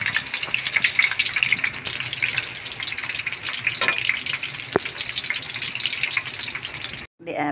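Ukoy fritters cooking in hot oil make a dense continuous crackling sizzle with bubbling texture, loud and close, with a brief sharp clack near the end.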